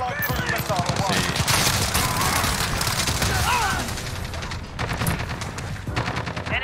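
Rapid automatic bursts from an FR 5.56 FAMAS rifle in the Modern Warfare video game, crackling near and loud across a chaotic hardpoint match with explosions and overlapping voices.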